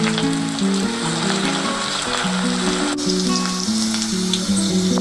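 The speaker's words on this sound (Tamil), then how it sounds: "இப்போ நம்ம இந்த ஸ்டஃப் லேடிஸ் ஃபிங்கரை போட்டு பொரிச்சுக்கலாம்." Stuffed okra sizzles and crackles steadily in hot oil, a continuous close frying hiss that runs under melodic background music.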